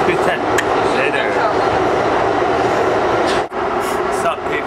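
Train passing through the health science station on a rail line, a steady loud rumble with rattling wheels and a brief dip near the end, voices talking over it.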